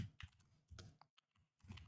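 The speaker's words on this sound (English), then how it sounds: "I'll stop typing that out." Quiet keystrokes on a computer keyboard during a live trading stream, a few irregular bursts of typing with short pauses between them.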